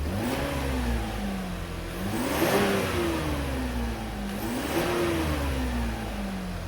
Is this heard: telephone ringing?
no